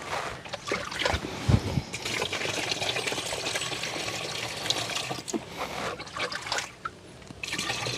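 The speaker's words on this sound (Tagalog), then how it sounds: "Tuloy-tuloy pala ang tubig mga kabayan." Spring water flows continuously from a mountain source, a steady trickling, splashing stream heard close and fairly loud, with a few brief knocks and shifts in the flow.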